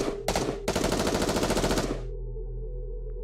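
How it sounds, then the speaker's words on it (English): Automatic gunfire in the video game Goddess of Victory: Nikke, a short burst and then a sustained rapid stream of machine-gun shots that stops abruptly, leaving a low droning background hum. "Soon after, there is the sound of gunfire, and screams fill the streets."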